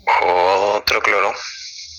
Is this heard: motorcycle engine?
no